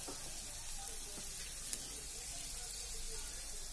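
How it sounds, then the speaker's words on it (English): Green chilies frying in a pan for white sauce pasta, a soft, steady sizzle with faint crackles, quiet and continuous, with no voice over it. "my green chilies are also getting fried"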